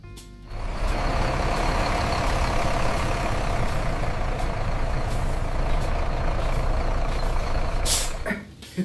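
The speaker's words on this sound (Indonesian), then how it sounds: "Itu bisnya udah datang." A bus pulls in with a steady loud engine rumble throughout, then a sharp hiss of air brakes near the end as it comes to a stop close by.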